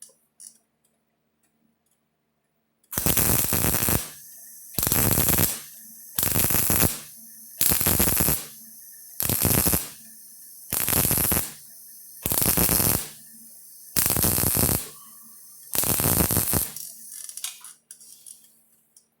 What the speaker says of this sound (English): It's what you call stitch welding.